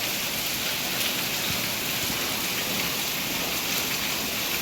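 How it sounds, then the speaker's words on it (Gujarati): Heavy rain pours steadily at about six in the early morning, a dense continuous hiss of drops on surfaces with no pauses, loud and close throughout. "મને તો ફૂલ વરસાદ ચાલુ છે"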